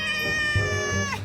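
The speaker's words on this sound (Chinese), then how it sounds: "胖橘会发出各种叫声，带出了猫叫。" A chubby orange campus cat gives a single drawn-out, whiny meow, close and clear, lasting just over a second.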